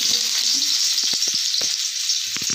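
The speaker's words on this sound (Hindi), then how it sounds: "मेरा प्याज भुन जा चुका है" Onions frying in a pan with turmeric and chilli powder for a dal badi curry, a steady loud sizzle broken by short knocks and scrapes of a spoon stirring.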